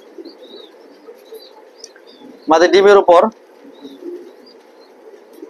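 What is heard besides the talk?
racing pigeons cooing in a loft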